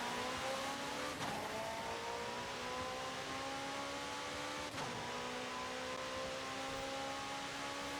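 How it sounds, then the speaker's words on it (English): A Porsche supercar in a drag-race video game accelerates hard, its engine note climbing steadily in pitch through a long pull with a brief shift dip, loud and continuous without talk. "The Porsche is pushing hard"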